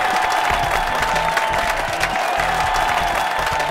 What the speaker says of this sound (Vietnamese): Một tràng pháo tay thật lớn ạ.